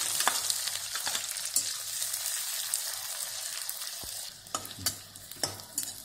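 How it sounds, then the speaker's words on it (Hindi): Finely chopped onions sauté in very hot oil with popping mustard seeds: a continuous bright sizzle and hiss, close by, broken near the end by a few sharp spatula scrapes and taps. "अब हम इसमें डाल देते हैं 2 प्याज मैंने बारीक कट करके लिए हैं, इसे हमें सौते करना है"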